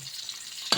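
Crushed garlic fries in a pan until golden brown, a soft steady sizzle close by that ends in a sharper, brighter crackle near the close.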